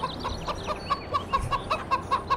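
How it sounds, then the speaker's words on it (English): Chickens clucking in the Farming Simulator 2013 video game, a steady run of short, repeated clucks about every quarter second, close and fairly loud over a faint low background hum. "Shut up, chickens."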